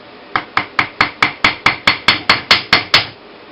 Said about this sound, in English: hammer, and then slowly rotate it so it kind of gets sucked right into the hammer and mandrel space